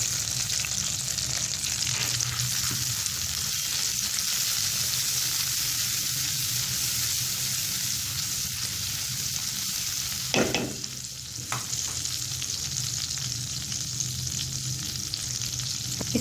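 Macaroni frying with spices in a pan, a steady close sizzle running throughout, with one sharper burst of scraping or sizzling from stirring partway through.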